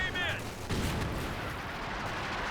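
A grenade goes off in Company of Heroes 2, one broad booming blast that settles into a long rumbling tail with scattered battle noise, following a short whistle at the start.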